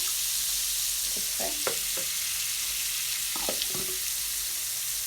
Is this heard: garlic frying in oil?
yes